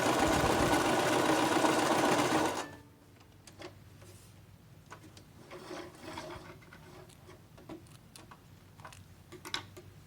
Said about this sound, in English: Lower the presser foot and do a line of stitching.